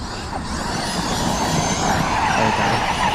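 A Traxxas XRT RC truck speeds off and skids, a continuous loud rush of motor whine and tire scrub across the whole stretch, with no talking.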